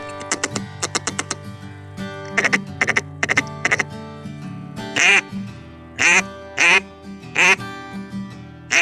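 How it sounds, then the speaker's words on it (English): A wood duck hen calls repeatedly in a series of short nasal quacks with pauses between, fairly clear and close, mixed with rapid clicking sounds early on. "there's wood ducks over in these trees over here, maybe 100 yards that way. I can hear the hen."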